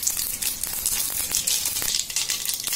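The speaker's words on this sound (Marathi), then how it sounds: "ती अशी छान तळतळली." Mustard seeds crackle and spit in hot oil in a kadai, a steady close sizzle dotted with rapid small pops throughout.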